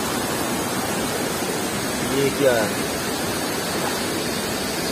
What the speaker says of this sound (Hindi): ये देखो इधर आता है पानी, यहाँ ऊपर तक आता है ना पानी